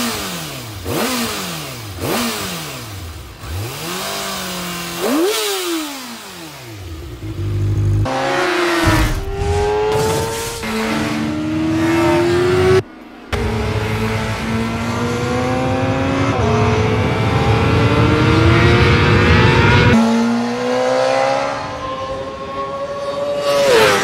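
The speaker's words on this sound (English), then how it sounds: "let's have a listen to the exhaust notes of both these bikes" Exhaust notes of a Honda CBR600RR and a Kawasaki ZX-6R supersport motorcycle, close and loud: repeated revving blips rise and fall in turn, followed by sustained high-pitched engine runs that climb through the gears, with no talking.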